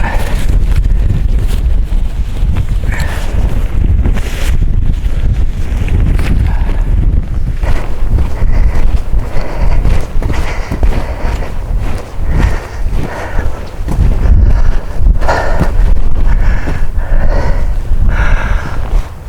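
Strong wind gusts continuously across an exposed hilltop on Kinder Scout, buffeting the microphone with loud, low rumbling roar for the whole stretch, rising and falling slightly but never dropping away.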